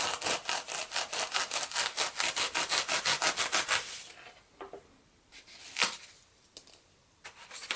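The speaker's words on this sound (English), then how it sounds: "So I'm just going to cut a V here, and then we're going to bend these over." Cutting a V into the hand of a Halloween ghost prop with a small saw, giving a loud, steady run of rapid back-and-forth rasping strokes, then quieter scattered scrapes and taps, close by with no voices.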